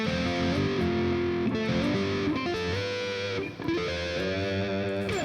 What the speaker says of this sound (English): sliding these entire chords, with this much distortion, it just kind of rings together